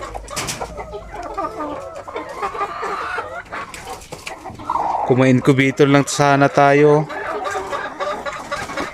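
Pet hens cluck near a nest with a few eggs, giving short repeated calls that build into a louder run of clucks near the middle. Someone talks over and around the birds throughout.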